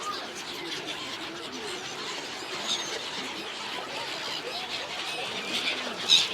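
Birds chirp and squeal in a busy flock at Dwarka during feeding, a steady high twittering chorus with brief sharper calls, fairly near, without clear talk.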